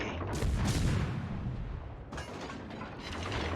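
Game gunfire aimed at an enemy player, a rumbling burst of booming shots around the half-second mark, then a second sharp volley near the two-second mark, loud with no talking.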